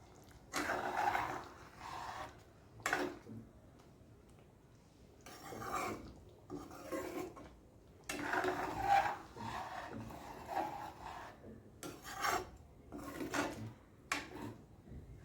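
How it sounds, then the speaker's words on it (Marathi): Paneer cubes are stirred into a vegetable curry in a pan. Scraping and rubbing strokes from a spoon come in separate bursts with short quiet gaps between them, close and moderately loud. "आता आपण हे हलवून घेणार आहोत."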